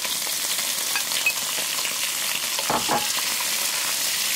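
Shrimp sizzle in hot oil with minced garlic and shallots in a deep pan, a steady loud frying hiss broken by a brief stirring clatter near the end.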